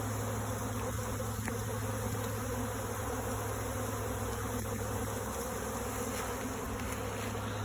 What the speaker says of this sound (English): They're probably the ones back in the air.